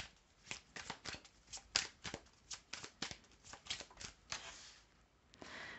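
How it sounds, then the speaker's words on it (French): Tarot cards shuffled and drawn, a close run of quick crisp riffling flicks and soft card slaps in irregular bursts, alone without talk. "la carte qui tombe"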